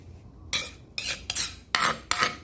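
A spoon scrapes and scoops ground ingredients out of a mortar while preparing Thai sadao clear soup, giving five short, bright metallic scraping strokes close up with brief pauses between them.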